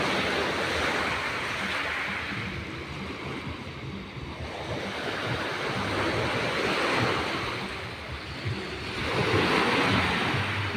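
Waves breaking on the shore at Coronon Beach Resort, a continuous loud wash of surf with slow swells rising and falling, mixed with gusty wind buffeting the microphone.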